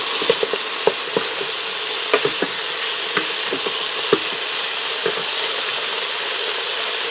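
Onion and garlic powder being stirred into beef tips in a pressure cooker pot, giving a string of close, scraping clicks and knocks from the spoon at an uneven rhythm over a steady low hiss, with no talking.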